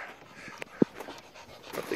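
Hunting hounds used on a mountain lion hunt pant rapidly up close, with a brief whimper or yip and soft breathy gasps throughout.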